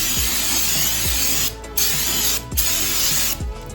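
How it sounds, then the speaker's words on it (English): Brake cleaner sprays in long hissing bursts onto a new brake rotor during rotor replacement on an 8th-generation Honda Civic, with short breaks between blasts and a faint clicking underneath. "They come from the factory with like a bit of oil on them, so you just brake clean."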